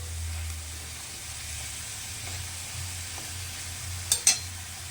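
Water lily stems frying in a pan with mustard, poppy seeds and turmeric, giving a steady soft sizzle with a low hum underneath, two brief sharp clicks near the end, and no talking.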